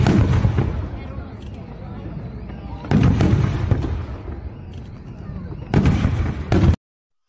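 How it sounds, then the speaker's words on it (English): A fireworks sound effect bursts three times, at the start, near three seconds and near six seconds. Each loud boom trails into a rumbling crackle and then cuts off into silence. "So we're going to do a little fireworks."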